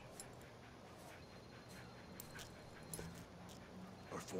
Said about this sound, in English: Oh, it's a cool puppy.